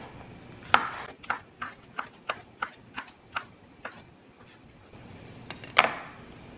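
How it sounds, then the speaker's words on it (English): A knife chops sausage on a board in a quick run of about a dozen sharp, evenly spaced knocks. A louder hit starts the run and another ends it, all close and clear against a quiet background. "Next thing, we're gonna cut up sausage."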